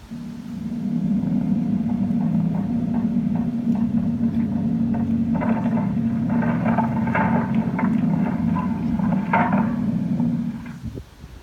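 An earthquake of magnitude 7.9: a deep, continuous rumble with scattered rattling and clattering building over it, then dropping away abruptly.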